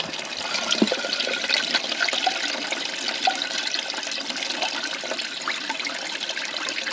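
Water running and trickling through a homemade grease trap into an oil container, a steady close splashing flow with scattered drips, no talking.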